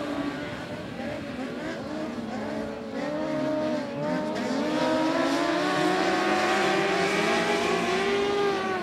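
IMCA Stars Mod Lights race cars roaring around the 105 Speedway track in a heat race, a loud, steady engine drone with rising and falling revs as the pack circles, a commentator's voice faintly underneath.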